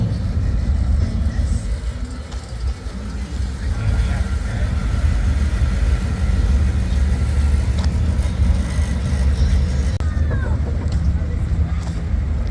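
An antique car leaves an outdoor antique car and truck show, its engine a low steady rumble mixed with heavy wind noise on the microphone, continuous and fairly loud throughout.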